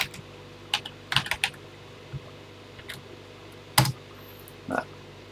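Keys clack on a TI-99/4A home computer keyboard as a program is entered, with scattered irregular presses and short bursts separated by pauses in a quiet room.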